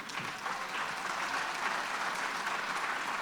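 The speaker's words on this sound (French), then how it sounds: "on peut les applaudir bien fort" Steady, dense applause from an audience at a 2020 New Year greetings ceremony in Fresnes-sur-Escaut, loud and sustained for the whole span with no pauses.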